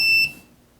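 DRS210Pro video transmitter switched on, giving one short high electronic beep that cuts off quickly and leaves quiet.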